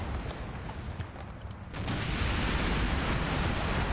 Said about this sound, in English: There's the 20mm fire.